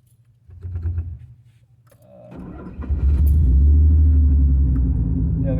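A 1990 Nissan 300ZX cranks briefly, then its engine catches and settles into a loud, close, steady rumble, with a jingle of keys near the start.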